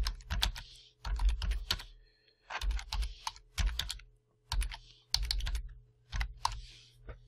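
Close computer keyboard typing comes in bursts of rapid clicks separated by short pauses as text goes into an OpenOffice document, with nobody talking.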